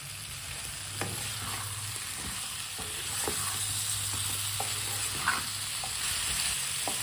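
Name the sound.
potatoes frying in pan, stirred with a spoon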